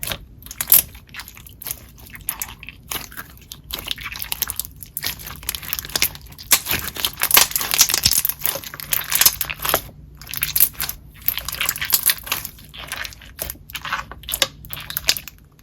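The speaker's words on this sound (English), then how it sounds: "I am a fan of these beads. The crunch is super unique." Crunchy slime full of beads is squished and pressed by hand, giving dense, close crackling and popping crunches in irregular bursts with brief quiet gaps, without speech.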